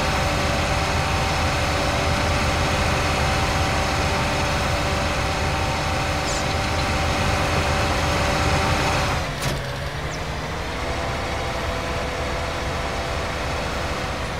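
A tractor in Farming Simulator 2019 drones steadily as it drags a plough through muddy ground, its engine holding a loud, even hum that shifts pitch briefly partway through.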